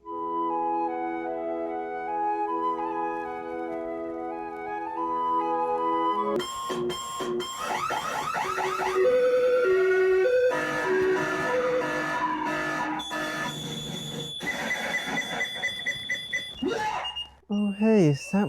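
A loud electronic alarm melody rings out with shifting tones and rapid beeps, continuing for several seconds amid some background clatter, close by.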